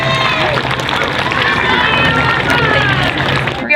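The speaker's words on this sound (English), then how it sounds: "A big round of applause for everyone, please." Audience at a school award ceremony applauding and cheering loudly, a close, continuous roar of clapping mixed with crowd voices and shouts.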